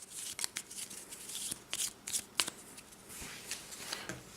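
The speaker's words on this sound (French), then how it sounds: "nous prenons les 6 tuiles que nous allons mélanger" Six cardboard board-game tiles from Small Detectives shuffled by hand on a table, a quick series of soft slaps and sliding rustles, close and fairly quiet.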